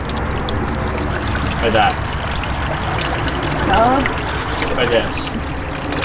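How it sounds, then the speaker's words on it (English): Water trickles and pours from the outlets of a small backyard mini pond, a steady splashing dribble running throughout while people talk briefly over it. "Got half the water coming out of one, half the water coming out of the other one."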